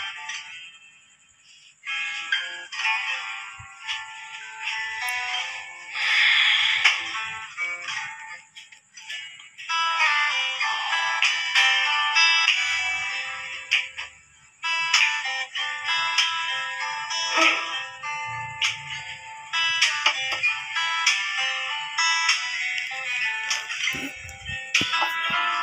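Electronic tones from a prepaid electricity token meter in a base camp, a continuous shrill beeping and ringing pattern that runs steadily throughout, fairly loud and close with faint shuffling underneath.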